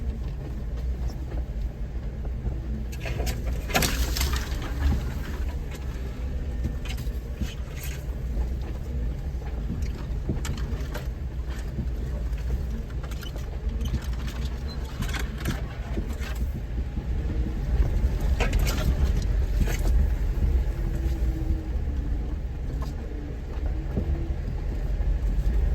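A Jeep's engine rumbles steadily in first gear while crawling over rocks on the Bald Mountain trail in Virginia, a continuous low drone with faint knocks and creaks from the rough ground.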